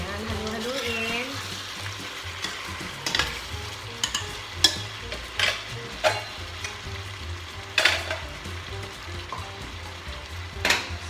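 Chicken kaldereta with potatoes and red pepper being stirred in a hot pan, a steady sizzle under repeated scraping clacks of the spoon against the pan at an uneven rhythm, close up.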